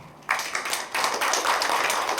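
Applause from a lecture audience at a university special lecture, a burst of dense clapping starting abruptly and continuing steadily, fairly close and filling the room, with no talk over it.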